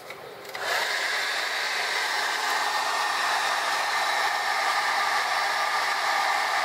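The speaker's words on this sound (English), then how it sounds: "we'll apply a hair dryer to shrink the tube." A hair dryer switches on and blows with a steady, loud whooshing hiss that continues without change, close by and alone, shrinking heat-shrink tubing during a model train smoke unit repair.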